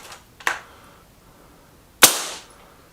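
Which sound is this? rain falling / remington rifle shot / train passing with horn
remington rifle shot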